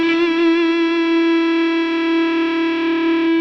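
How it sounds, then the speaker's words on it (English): A single sustained electric guitar note through a fuzz pedal, heavy fuzz distortion, buzzy and thick with harmonics, ringing steadily and loud with a slight wobble. "you can hear those notes just kind of start collapsing like a fuzz"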